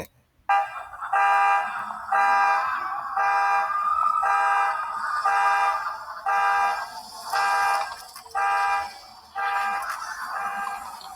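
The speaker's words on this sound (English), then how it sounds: "The sound of the horns." Repeated car horn blasts sound in a steady rhythm of about nine short honks, loud and bright over faint street background.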